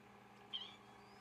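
A single short, faint meow from a house cat, brief and quiet over a low background hum.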